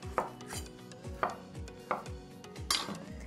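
A knife roughly dices Roma tomatoes on a cutting board, sounding as a handful of sharp, evenly spaced chops up close, with no talking.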